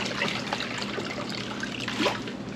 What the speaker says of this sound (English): Now we're gonna pan it down and see what was in there.